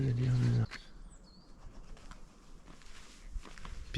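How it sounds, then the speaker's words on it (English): A pigeon takes off with a quick burst of wing flapping on a Norfolk Broads morning walk, brief and fairly close, after a loud moment of talk, then fading into quiet outdoor ambience. "pigeon."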